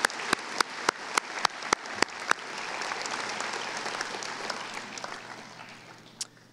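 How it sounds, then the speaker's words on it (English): Applause at a high school graduation ceremony after a student speech, opening with a series of loud, evenly spaced close claps before a full crowd ovation swells and holds, tapering near the end with one last sharp clap. "Another round of applause for Nolan, please."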